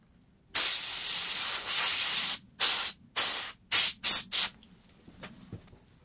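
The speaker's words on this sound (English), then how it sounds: "You can use a blower or a little compressor" Air blower or small compressor spraying air to clean a Rega R200 turntable: a long steady hiss followed by four short bursts, then faint puffs, close up.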